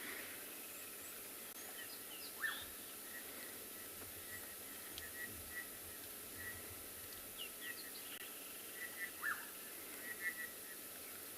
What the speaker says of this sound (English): And you can see the birds are all still calling.